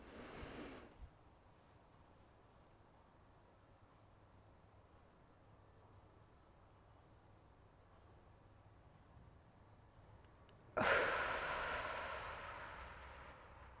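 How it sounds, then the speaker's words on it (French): A slow breath drawn in during a sophrology relaxation exercise, then a long held silence, then a loud, close, breathy exhale blown out near the end. No one speaks. "avec une inspiration en apnée ensuite, pour souffler après sur l'expiration"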